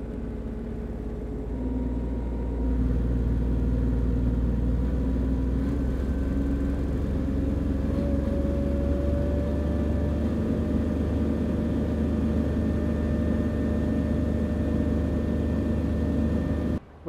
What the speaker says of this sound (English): The Dual Maverick 450 will change its RPM depending on the welding output required.